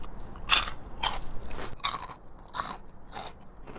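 Crunchy puffed food from a Northern Thai kitchen is bitten and chewed close up, giving about six crisp, crackling crunches in a steady rhythm with no talk.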